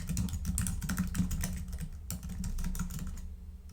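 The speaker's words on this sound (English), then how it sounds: "And I'll type in my blog URL." Rapid close keystrokes on a computer keyboard as a web address is typed, a dense clatter of clicks that stops just before the end, with no talking.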